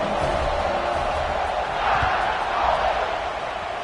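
A broad roar of a stadium crowd in an NCAA college football video game swells and surges steadily, loud and sustained, with cheering rising slightly toward the middle.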